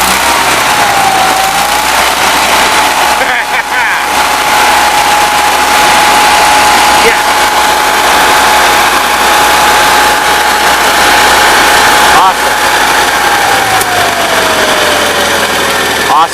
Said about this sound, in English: Let me flip it off a low idle.